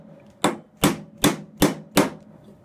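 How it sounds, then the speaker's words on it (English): A hammer strikes a small stubby punch five times at a steady rhythm, driving an original serrated pin out of an SU H type carburetor held in a vise; sharp, close metallic blows with no talking. "Get your nice hammer,"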